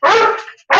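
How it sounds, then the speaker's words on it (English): A dog barks twice at close range, two loud, harmonic barks separated by a short pause, after someone came to the door. "I hear you, dog."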